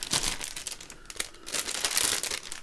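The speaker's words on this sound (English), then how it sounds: "It's just a, you know, cellophane bag, something came in." A cellophane bag crinkles and crackles in irregular bursts close up, handled and squeezed continuously for a few seconds with no talking over it.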